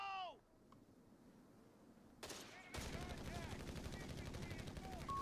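Sustained machine gun fire in a Company of Heroes 3 tournament match, dense rapid bursts that start abruptly and hold steady to the end, loud over the game's background noise after a brief tonal effect.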